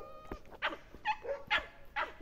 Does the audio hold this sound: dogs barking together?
yes